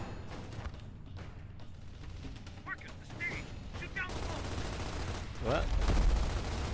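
Gears of War gameplay with dense, continuous gunfire and rattling weapon bursts, busy and mid-loud, building toward a heavier rumble near the end, while someone briefly speaks.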